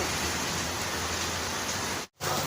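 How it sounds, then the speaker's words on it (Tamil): Steady rain falling in a dense, even hiss, close and fairly loud, with a brief cut to near silence near the end and no voices. "மழை நிற்கிற மாதிரியே தெரில"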